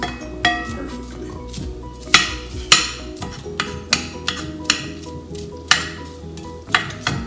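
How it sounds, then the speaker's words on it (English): Onions sautéing in a pan for quesadillas, with a steady sizzle under sharp clinks and scrapes of a utensil against the pan at irregular intervals, close up and moderately loud, with background music underneath. "this is sauteing down"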